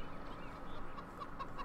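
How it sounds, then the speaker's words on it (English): Chickens cluck softly in a coop in Farming Simulator 2013, a few short clucks over a steady low farm ambience. "let's check on the chickens while we're waiting here."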